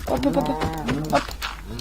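Cows in the Minecraft video game moo repeatedly, loud and close. Their calls are low, drawn-out and tonal, overlapping one another across a short stretch.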